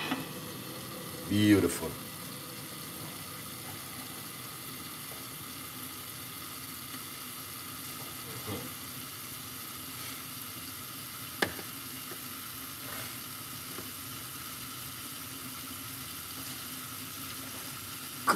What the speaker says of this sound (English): Sweat up the onion.